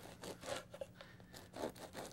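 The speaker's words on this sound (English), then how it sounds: "Hold the knife straight and a sawing motion back and forth." Serrated knife sawing back and forth through crusty bread for crostini slices, giving several short rasping strokes in an uneven rhythm, close and fairly quiet, with no talking.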